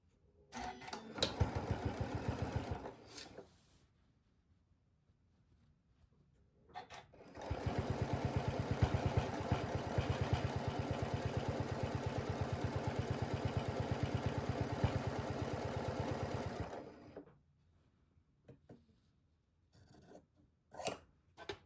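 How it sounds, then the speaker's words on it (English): A sewing machine stitches a zipper and boxed bottom in two runs, a short burst and then a long steady whirring stretch of several seconds, fairly quiet and close, with brief pauses between. "So let's go to the sewing machine."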